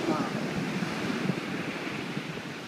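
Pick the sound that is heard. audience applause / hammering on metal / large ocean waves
large ocean waves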